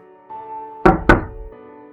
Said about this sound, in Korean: 문을 두드리는 소리에 나는 뒤를 돌아보지 않고 대답한다.